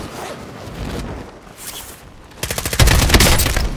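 Rapid gunfire from Call of Duty Warzone, a quieter burst early on, then dense, loud automatic shots in the final second and a half, with no talking.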